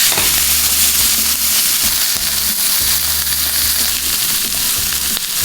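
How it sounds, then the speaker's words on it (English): A steak sears in a hot pan with its fat rendering, a loud, dense, continuous sizzle up close, broken by periodic crackles and pops as the meat is shifted, with no talking. "Just searing the sides as well, rendering that fat down."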